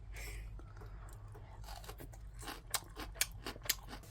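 Someone chews seasoned chwinamul, wild aster greens dressed with two-year-old homemade soy sauce, close to the mic, giving soft moist crunches that build into a few sharper bites.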